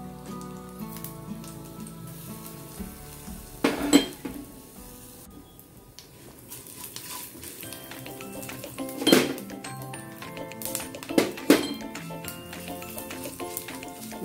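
Nigella seeds and a pinch of asafoetida sizzle softly in hot oil with a crackling hiss, punctuated by a few sharp metallic clinks of a utensil against a pan.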